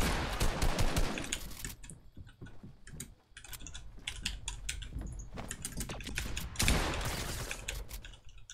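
Scattered video game gunfire in a French-language shooter match, sharp clattering shots and short bursts repeating throughout, fairly dense and close, with no talking over it.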